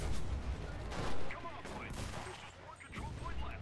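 Artillery fire and explosions in the World War II video game Enlisted, with rolling booms and scattered gunfire layered densely at mid distance, loudest near the start and continuing throughout.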